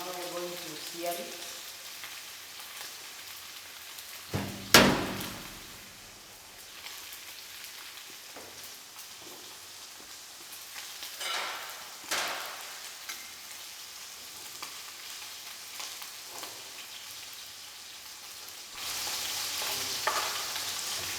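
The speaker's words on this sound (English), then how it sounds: "So now we're going to sear it." Meat sears in a hot pan with a low, steady sizzle broken by occasional louder bursts and clatter as the pan is handled.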